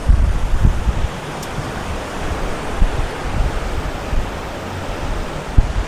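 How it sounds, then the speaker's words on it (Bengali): Rough, churning sea surf rolls in against a beach resort at Mandarmani, a steady, loud wash of breaking waves with gusty wind noise over it and no voices. "আমাদের রিসর্টে একদম ধাক্কা দিচ্ছে জল এসে, এই যে সমুদ্র"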